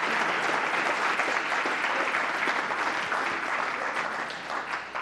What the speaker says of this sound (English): Let's get a big round of applause for the AP Scholars with Honor.